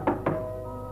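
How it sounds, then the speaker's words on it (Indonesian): Two firm knocks on a bedroom door in a radio drama, close and distinct, followed by a faint lingering tone. "Ada orang mengetuk pintu kamarku."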